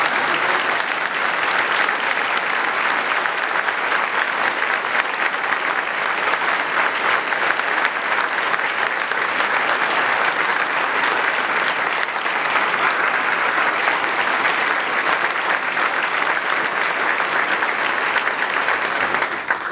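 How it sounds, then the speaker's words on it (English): Audience applause at a university ceremony greeting the newly announced president, Barry H. Dunn, a dense, steady roar of many hands clapping that fills the whole stretch at full loudness without a break. "please give him a round of applause"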